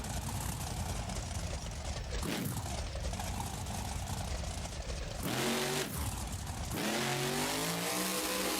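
A monster truck in the BeamNG Monster Jam car-crushing game revs its engine, a faint, steady drone that swells into rising and falling revs near the end, heard alone.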